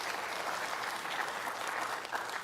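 Audience applause at a live programme, dense and steady clapping from a crowd that carries evenly at moderate volume for a couple of seconds with no voices over it.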